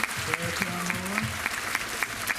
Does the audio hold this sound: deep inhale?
no